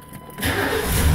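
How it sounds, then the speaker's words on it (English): A 1995-1998 Chevrolet GMC truck engine cranks briefly and catches, rising quickly into a loud, steady running rumble up close. "Truck start."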